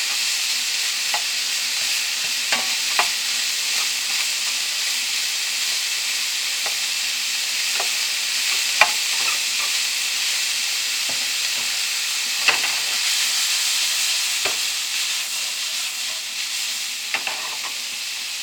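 Hot peppers fry in a pan with a steady, bright sizzle, while a utensil stirs them in scattered clicks and scrapes across the full stretch, with no voices.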